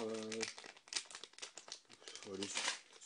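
Someone tears open and crinkles a plastic sachet holding a small figurine, giving short crackling bursts while a voice talks over them.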